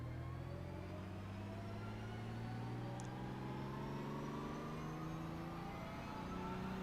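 A GT3 race car engine in the iRacing game at Monza drones steadily and climbs gradually in pitch as the throttle is eased on, a continuous quiet tone with no talk over it.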